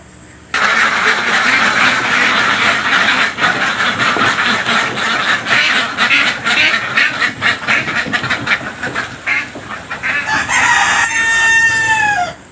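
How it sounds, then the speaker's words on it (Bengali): Morning on a duck farm as the ducks are let outside: a loud, dense chorus of quacking and calling from many ducks close by, with a rooster crowing near the end and no talk. "তো এখনই হাঁসগুলা বাইরে ছেড়ে দেবো"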